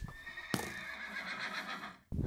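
A horse in the Minecraft video game lets out a loud, close whinny lasting about two seconds, with a sharp click at the start and a brief break in the game's background sound just before it ends.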